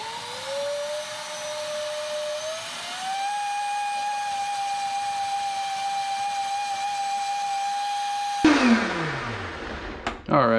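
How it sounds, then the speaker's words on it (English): A blender whirs through a vegan ice cream base with vanilla extract, its motor whine rising in pitch and then holding a steady high drone before cutting off abruptly, followed by a brief clatter. "So all this is just going into the blender,"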